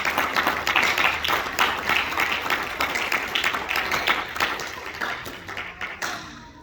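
A church congregation applauding in a large room, scattered claps forming a moderate, steady round of applause that fades toward the end.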